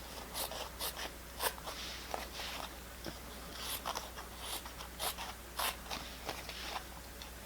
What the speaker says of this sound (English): So pick your scissor and go all the way, kind of in the middle